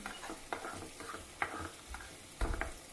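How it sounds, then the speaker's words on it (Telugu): Garlic and egg fry in a pan over a low flame, giving a soft sizzle broken by repeated scraping stirs and clicks of a utensil against the pan at an uneven pace. "మంచి బ్రౌనిష్ కలర్ వచ్చేలాగా ఫ్రై చేసుకోవాలి మాడిపోనివ్వకూడదు"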